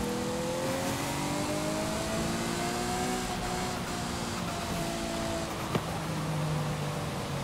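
A Ferrari FXX K drives in the racing game Forza Horizon 5, its engine droning and rising in pitch as it accelerates, with a brief sharp click near the end and no talk.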